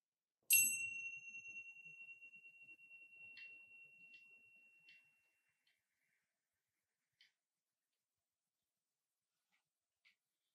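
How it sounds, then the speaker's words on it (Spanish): Meditation bell struck once to close a mindfulness practice, a clear bright ring decaying over several seconds in near silence, followed by a few faint light taps. "Con el sonido de la campana puedes moverte con suavidad y finalizar"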